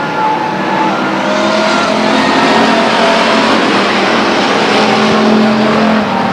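Race cars roar around Stockton 99 Speedway in a dense, continuous engine blare, loud and steady with a whining tonal edge and no letup across the few seconds.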